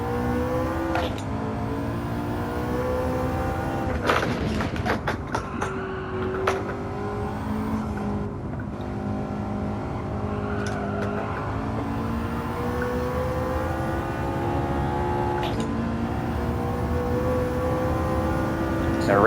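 The McLaren 650S engine in Gran Turismo 7 revs hard and climbs through the range, the whine rising and dropping across repeated gear shifts, loud and continuous with no voices.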